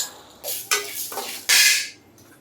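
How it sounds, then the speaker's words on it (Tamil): Chana dal is stirred in a pan, with a run of close scraping and rattling strokes of a spoon against metal, several short bursts and one longer loud scrape, with no talking. "கடலைப்பருப்பு இதை போட்டு வதக்கலாம்"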